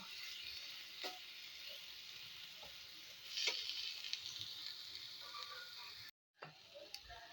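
Ingredients for an egg paneer curry, including cashew paste, sauté gently on a low flame: a soft, steady sizzle with a few faint ticks and clicks, briefly cutting out near the end.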